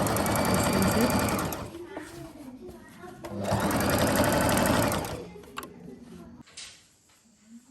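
A sewing machine stitches shirt or kameez fabric in two loud, sustained runs, with a quieter pause between them and a short burst near the end.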